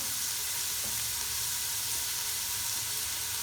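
Loud, steady sizzling of meat pieces and onions frying in a pot as the base for harira, a continuous close crackle with no talking.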